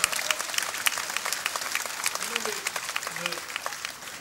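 Audience applause at a French public debate on journalism, a dense burst of clapping with a few voices heard faintly within it.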